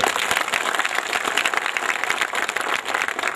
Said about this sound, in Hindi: आप इस ब्रह्मर्षि समाज, इस जागृत समाज के लिए एक बार तालियां बजाइए।